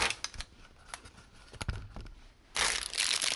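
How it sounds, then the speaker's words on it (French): Packaging for an Air Magic metal shifter ring for a Mazda RX8 is torn and crinkled open close up, with irregular crackles and rips and a louder burst of rustling toward the end. "cette petite bague Air Magic, je vais la déballer"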